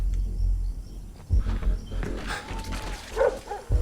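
A dog barks in the stealth video game Splinter Cell: Blacklist. Several short, sharp barks come from fairly close over a dim background of game ambience, with no talking.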